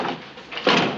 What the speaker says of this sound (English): That door always jams.